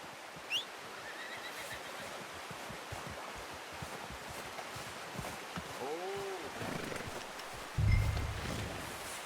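A horse in the Red Dead Redemption 2 video game gives a short whinny midway through, fairly faint over a constant outdoor ambience, followed by a low snort near the end.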